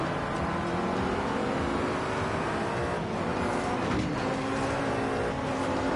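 A racing video game car's engine, a car prone to slight wheel spin off the line, drones loudly and continuously, its pitch rising and falling through gear changes with no talk over it.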